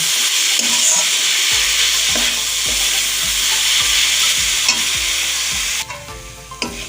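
Coconut filling cooks in a pan with a loud, dense sizzle and hiss, punctuated by regular scraping strokes of a spatula, the sizzle thinning out toward the end.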